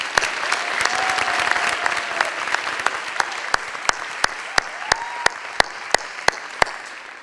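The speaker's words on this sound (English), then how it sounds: "Please join me in a round of applause." Graduation ceremony audience applauding for board of education trustees, a steady wash of clapping joined by sharp regular clicks and a couple of faint tonal whistles.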